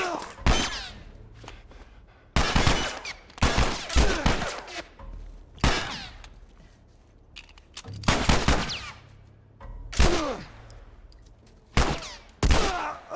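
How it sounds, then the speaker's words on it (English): Gunfire in the video game The Last of Us: repeated loud bursts of shots, some rapid and clustered, separated by brief quieter gaps with background game sounds, no talking. "I definitely shot him in the head."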